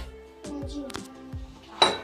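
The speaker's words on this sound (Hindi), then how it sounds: "बर्तन भी धुलवा रही हूँ" Dishes being washed by hand in a home kitchen, with a few separate clinks and knocks of pots and utensils, the sharpest near the end, over quiet background.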